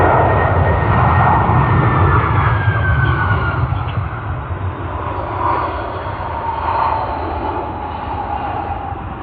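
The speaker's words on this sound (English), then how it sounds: "Another Qantas A330 coming in from Hong Kong, QF 128." Qantas Airbus A330 jet arriving at Sydney Airport from Hong Kong: a steady, loud engine roar and broadband rumble from a distance, with a faint whining tone that slowly drops in pitch.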